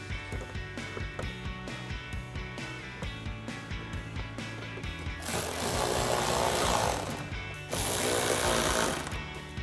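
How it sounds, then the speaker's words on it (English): Two 10mm bolts are driven back in at the bottom of a 2012-2015 Toyota Tacoma headlight: a close, rapid, rhythmic ratcheting hammer, then two longer, rougher tool bursts. "we can reinstall our 2 10mm bolts at the bottom"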